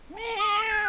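A single drawn-out cat meow that rises and then holds steady, close and clear, with no voices over it.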